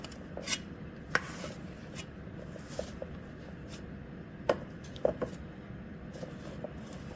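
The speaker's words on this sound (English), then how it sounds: "Then I take a cookie scoop and I scoop the dough" A cookie scoop works through chocolate chip cookie dough with soft scraping and rubbing sounds and a few sharper clicks of the scoop, close up and without talk.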